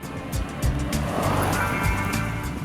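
A Toyota Innova Crysta with a 6-speed automatic drives along, its engine a steady hum with road and wind noise, heard from the car.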